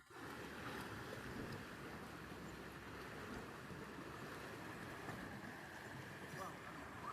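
Sea waves washing onto the shore at a picnic beach, a steady, soft broadband wash that continues without a break, fairly faint and distant, with no clear voices over it.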